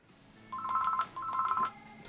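A telephone rings at a radio station's round-the-clock traffic desk, sounding two quick electronic trilling bursts separated by a short gap over a quiet room.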